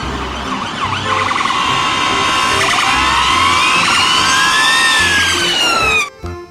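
Police car siren wailing loud and close, rising and falling tones sweeping over a steady rumble for about six seconds before cutting off abruptly.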